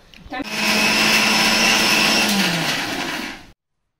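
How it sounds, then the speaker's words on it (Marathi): A kitchen mixer grinder churns thick guava chutney for a panchamrut, a loud steady whine that starts abruptly, runs for about three seconds, then winds down and cuts off. "थोडंसं, आपली घट्ट चटणी आपण करतो ना इडली बरोबर वगैरे खायला, समजा, किंवा एखाद्या पदार्थावर घट्ट चटणी, पातळ नाही, घट्ट वाटून घ्यायचं"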